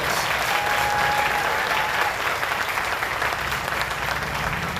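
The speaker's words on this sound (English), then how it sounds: "Let's give our Lieutenant Governor another great big round of applause." A large crowd applauds warmly for the Lieutenant Governor at a Breast Cancer Motorcycle Ride stop in Buffalo, a loud, dense, continuous patter of clapping with no talking over it.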